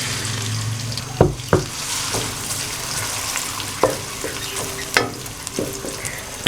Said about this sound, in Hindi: अब मैं इसमें प्याज डालूँगा।